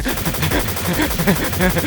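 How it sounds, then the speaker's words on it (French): Rapid automatic fire from a cannon in a battle scene, a dense, loud burst of repeated shots rattling steadily for the whole short stretch. "Cosidrion arrosait de son canon ses adversaires en riant"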